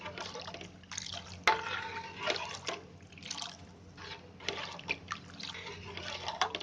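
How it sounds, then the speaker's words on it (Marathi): Gram flour mixed in water is poured into a pot of buttermilk kadhi in uneven pours, splashing and trickling, with small drips and clinks, fairly close and moderately quiet. "बेसन आहे ना असं पाण्यामध्ये कालवून ते असं ओतायचं"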